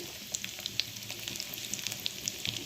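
Mustard seeds, cumin and dried red chilies frying in hot oil for a tempering, giving a steady soft sizzle with scattered small pops and crackles throughout.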